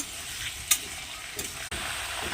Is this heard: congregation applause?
no